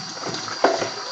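Running tap water rinses the basket of a Breville juicer, a steady close splashing wash with one brief louder splatter partway through.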